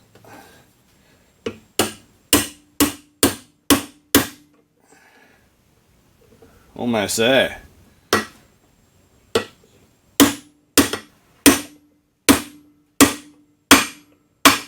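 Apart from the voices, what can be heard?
hammering a bearing onto a drift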